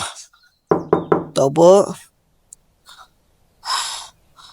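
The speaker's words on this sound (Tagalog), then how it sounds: "bago kumatok sa gate" A few quick knocks on a gate, close and fairly loud, with voices and breathy sounds around them and fainter sounds afterward.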